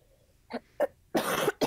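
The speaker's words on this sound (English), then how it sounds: "I'm coughing today" A person coughs several times close up: two small coughs, then a longer harsh coughing burst and a final cough.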